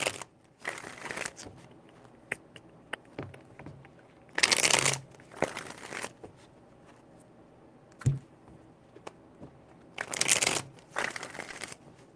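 Tarot cards being shuffled in several quick riffling bursts, separated by quieter gaps with small taps and handling noises.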